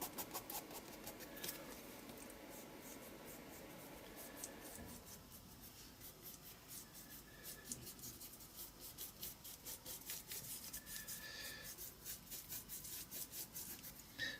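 A finger rubs gesso across a moodboard surface, giving a faint, steady scratchy brushing texture with soft repeated strokes throughout, quiet and close.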